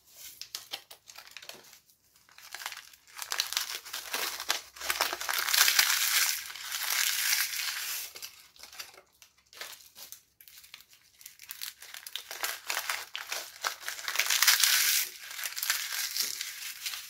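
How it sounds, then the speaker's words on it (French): Lace crêpes (crêpes dentelle) being crushed for a praline mixture: close, dry crackling and crinkling crunches come in uneven bursts with short pauses, brittle and papery, with no talking. "Je viens émietter les crêpes dentelle."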